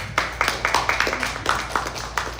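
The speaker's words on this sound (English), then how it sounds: "Let's all clap for Operaverse." An audience claps for Operaverse at a metaverse meetup, a series of sharp, closely spaced claps with a few hands heard distinctly rather than a dense ovation.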